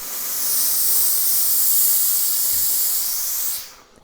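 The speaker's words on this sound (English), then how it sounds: "I'm going to blow the steam out of my Laura Star first" A Laura Star steam iron blows out a loud, steady hiss of steam lasting a few seconds before cutting off abruptly.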